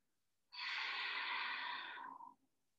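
A deep breath drawn in during yoga practice, one smooth, steady airy inhale lasting nearly two seconds, close and clear, fading out at the end with no talking.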